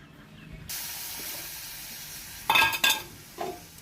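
A semolina, ghee and milk mixture for gulab jamun is stirred in a hot pan, giving a steady close sizzling hiss broken by a few louder scraping strokes near the end, with no talk.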